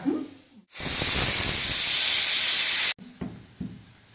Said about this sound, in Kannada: ಗ್ಯಾಸ ಮೀಡಿಯಂ ಇಟ್ಟು ಎರಡು ಸಿಟ್ಟಿ ಮಾಡ್ಕೋಬೇಕು